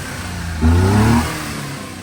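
A small carbureted car engine in a minicab build, just treated with Seafoam, runs loud and close at a steady idle, with a brief rev that rises and falls before settling back to idle.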